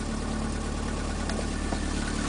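A 1984 Volkswagen Rabbit engine idles steadily at close range, a constant low rumble with a faint rattling texture and no voices.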